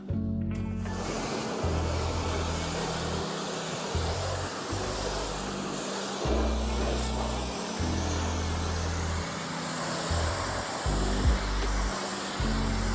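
A pressure-washer water spray rinses a car wheel during a detailing wash, giving a loud, steady hiss with the pitch shifting as the jet moves across the surface, close by, with no talking.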